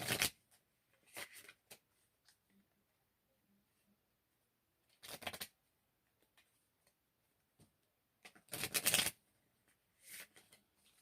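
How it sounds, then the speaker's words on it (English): A new deck of oracle cards being riffled and shuffled in a few quick bursts, close and fairly quiet, with pauses and small handling taps between. "Let me give it a couple shuffles."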